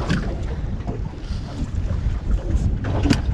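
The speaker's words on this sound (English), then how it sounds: "the wind is really packing up now" Strong gusting wind buffets a small fishing boat on open water, with continuous rough microphone rumble and occasional sharper gusts and water slaps.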